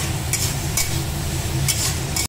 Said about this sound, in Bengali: মশলাটা তো আগে থেকেই কষানো ছিল, আর ছোলাটা মানে কষানো হচ্ছে মশলার সাথে